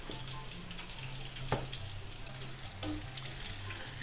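Pieces of chicken fry in a large batch of hot oil while being stirred, giving a steady close sizzle with a couple of brief scraping clatters from the stirring and no talking.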